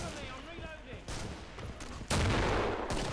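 Gunfire in the Killing Floor video game, a few dense bursts ending in a loud sustained volley, mixed with a busy game soundscape and no clear talk.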